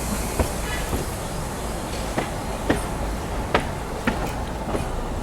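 A narrow gauge train rolls along the Bilimora to Waghai line, a loud steady rumble of wheels and carriage with regular clicking rail joints every half second or so, heard from on board.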